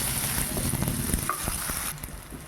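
Chopped tomato hits hot oil with fried onion in a pan over low gas, giving a steady, close sizzle with soft stirring scrapes throughout.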